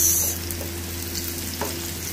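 Garlic and onion sauté in a hot pan for ginisang monggo, giving a close, steady sizzle with occasional stirring scrapes and a low hum underneath.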